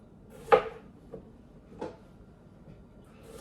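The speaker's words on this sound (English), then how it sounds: "I've got the 8-inch coated chef's knife. We are going to slice the tops off, put them in our trash receptacle." An 8-inch coated chef's knife slices the tops off vegetables on a cutting board, giving three separate sharp chops spread over a few seconds, close and fairly quiet, with no talking.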